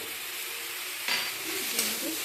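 Spices such as turmeric, chilli powder, salt and cumin paste being stirred into frying ingredients in a pan, a steady soft sizzle with a few clinks and scrapes of the utensil.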